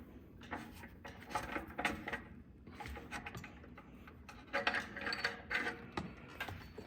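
A ratchet wrench with a socket loosening an oxygen sensor on a Jeep Wrangler JL, producing close, rapid clicking in repeated bursts as the handle swings back and forth.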